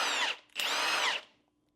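Two loud, close bursts from an impact wrench fitted with a chrome socket, spinning lug nuts on a Trans Am GTA, each burst about half a second long with a short gap between them before a quick fade.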